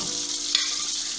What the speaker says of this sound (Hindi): सही से गोल्डन आप फ्राई करें। अभी आपकी फ्राई हो गई चिकन।